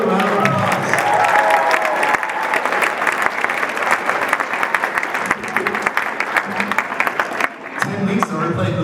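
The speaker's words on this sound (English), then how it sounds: "How about another round of applause?" An elementary school audience applauds third-grade string players at a strings informance, dense continuous clapping with some crowd voices mixed in, loud and sustained before a brief lull and a final burst.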